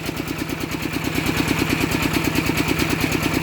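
An engine-driven water pump drains a rice paddy, its motor chugging in a fast, even rhythm close by and loud, with no voices over it.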